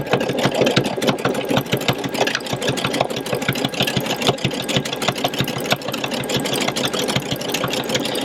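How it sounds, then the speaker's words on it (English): A sewing machine with a walking foot sews a serpentine stitch on a baby blanket of fabric and double gauze, giving a steady, close, continuous mechanical whir with fast rhythmic needle thumps and no pauses. "So I've got my serpentine stitch set, and there it goes."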